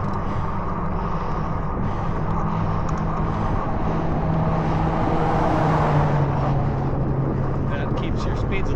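Steady northeast headwind roars across the microphone while fat biking, a constant loud buffeting rumble that never lets up.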